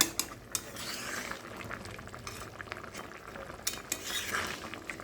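A spoon stirs and crushes chillies in a thick prawn and taro curry with potato and okra, giving scraping, clinking utensil sounds over a low bubbling simmer, with sharper knocks near the start and again toward the end.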